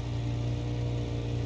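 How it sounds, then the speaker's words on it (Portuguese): A high-revving V8 engine from the Automation car-building game drones steadily at a constant pitch, loud and close, with a strong low hum and no voices. "É um V8 que eu fiz aí pra ele girar alto"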